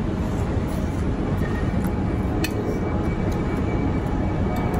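An airplane passes overhead above a rooftop terrace, a broad steady roar that holds through several seconds at moderate loudness with no talk over it.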